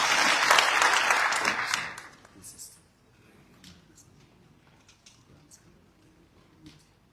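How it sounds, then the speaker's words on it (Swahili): A crowd at a burial fundraiser for a late senator in Baringo County breaks into loud, dense applause that fades out after about two seconds, leaving quiet room noise with faint scattered claps and murmurs. "Wape makofi ya mkubwa."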